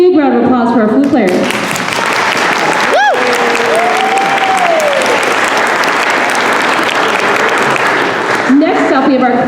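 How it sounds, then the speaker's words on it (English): A school band concert audience applauds the flute players, steady loud clapping filling the hall for several seconds with a short whistle near the start, and talk returning at the edges. "Big round of applause for our flute players."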